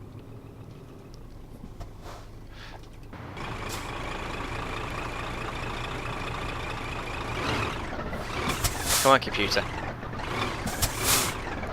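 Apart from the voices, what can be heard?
truck reversing with air brakes in Euro Truck Simulator 2 video game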